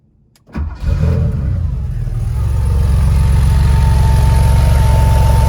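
A 1983 Porsche 911SC cranks briefly, catches and fires, then holds a loud, steady idle with a slight rev, the flat-six rumble close and continuous with no talk.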